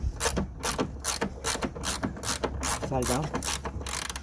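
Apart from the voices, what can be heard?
ratchet removing final tailgate bolt on a Honda Jazz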